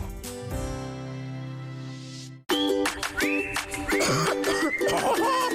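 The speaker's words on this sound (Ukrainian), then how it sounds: "Який кашель! Чуєш це?" After a sustained tone cuts off, a person coughs repeatedly in quick, harsh bursts, fairly close and loud.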